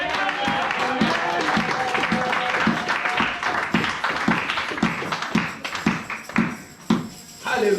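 A church congregation claps and cheers in praise of Jesus, rhythmic hand claps repeating steadily over a lively crowd murmur, with voices and music mixed beneath the clapping.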